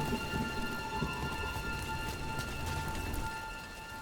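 Rain falls steadily, a dense continuous hiss of drops with a faint low rumble of thunder underneath, moderately quiet and unbroken throughout with no voices.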